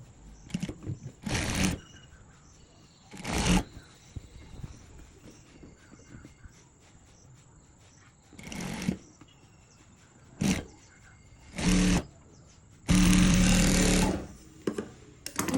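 A sewing machine stitches a folded sleeve edge on a gown in short, loud, separate bursts, ending in one longer continuous whirring run, with quiet handling noises in the gaps.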